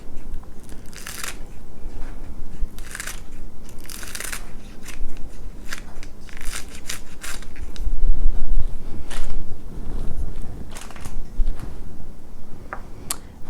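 Kitchen scissors snip through ingredients for hot and sour soup, a series of sharp, crisp cuts in irregular bursts over roughly thirteen seconds, close and fairly loud with light handling noise between snips and no talking.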